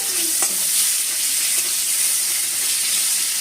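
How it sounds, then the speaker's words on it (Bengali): Capsicum frying in a little oil for a Bengali recipe, a loud continuous close-up sizzle with a few faint stirring taps and no talking. "ক্যাপসিকামটা একটু ভেজে নিচ্ছি"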